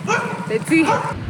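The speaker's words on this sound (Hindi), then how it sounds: "मेरे पे नहीं भौंक रहे कुत्ते, किसी और पे भौंक रहे हैं, वो बाइक वाले पे।" Dogs bark and yip at a passing motorbike rider a short distance off near an airport, partly overlapped by a person speaking briefly nearby.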